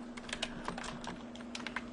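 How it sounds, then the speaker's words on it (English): Typing on a computer keyboard while writing a Blogspot blog post, a quick, irregular run of close key clicks over a low electrical hum, with no voices. "And you can simply begin typing"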